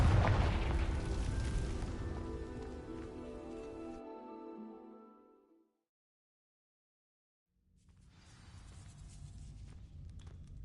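A Confringo fire-blast spell in Hogwarts Legacy bursting against dry vines, heard as a loud booming explosion that rumbles and fades out over several seconds into silence, followed by a wash of noisy ambience.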